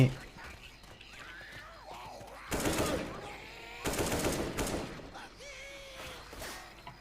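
Gunfire bursts in Left 4 Dead 2, two dense loud volleys of rapid shots about a second long each, with a fainter burst near the end, while someone talks in Thai throughout.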